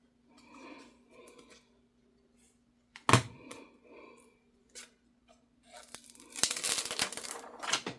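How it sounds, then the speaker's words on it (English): Scissors fussy-cutting around a vintage-style paper craft piece for a junk journal, giving a few sharp, close snips and rustles of paper separated by pauses, with a denser burst of cutting and paper handling near the end. "We'll cut around this bottom one a little."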